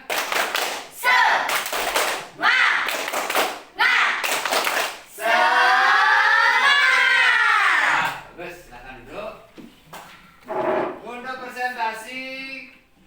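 A group of students standing in an Indonesian classroom performs a rhythmic spirit clap, with loud bursts of clapping alternating with chanted voices and a teacher speaking between bursts.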